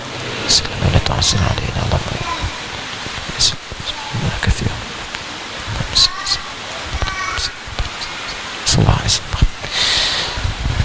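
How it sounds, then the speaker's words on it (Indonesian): Rain falls steadily during an evening religious lecture, a continuous wash of drops and patter with scattered sharper splashes and rustles throughout, fairly loud and close, with no clear speech on top. "semoga hujan yang turun ada berkah"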